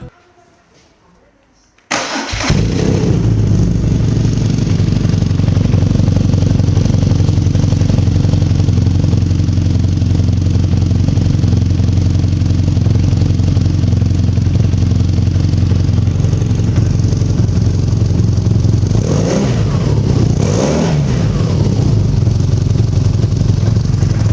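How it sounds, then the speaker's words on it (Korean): A BMW R nineT with an air-cooled boxer engine and tuned exhaust fires up after brief quiet and settles into a loud, steady idle that carries on for over twenty seconds, with a couple of throttle blips near the end. "자, 이번엔 시동을 다시 켜보겠습니다."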